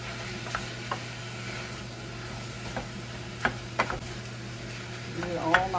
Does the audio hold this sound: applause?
no